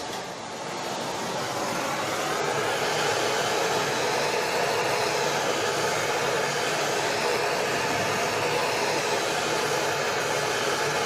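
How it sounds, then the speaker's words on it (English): Steady, close roar of a small propane torch heating seized metal parts on a 1959 Mitsubishi Silver Pigeon scooter, a continuous broadband hiss that holds at an even level throughout with no talking. "I'm going to grab a little propane torch. Alright. A little bit of heat."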